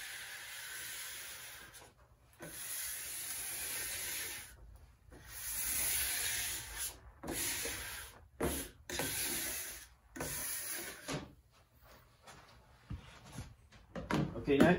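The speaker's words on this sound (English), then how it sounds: "I've got a larger squeegee, and I'll go ahead and I'll just squeegee it out." A squeegee smooths transfer tape onto a street sign in close, sweeping strokes, each stroke a burst of scraping friction separated by brief pauses.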